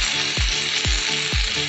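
Tomatoes dropped into a hot pan while cooking chicken shawarma, giving a steady loud sizzle and frying hiss with three low thumps or stirs at regular intervals.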